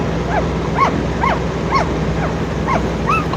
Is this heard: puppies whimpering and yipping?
yes